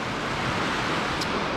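The Catawba River in Rock Hill, South Carolina, rushes in a loud, steady wash of broadband water noise close by, with a brief faint high chirp partway through.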